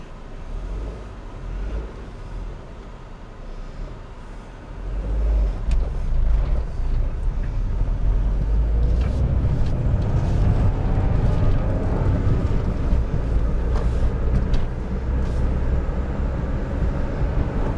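Honda Insight car driving into town in stop-and-go traffic, a steady interior engine and road rumble that swells louder after a few seconds and stays sustained, with no talking.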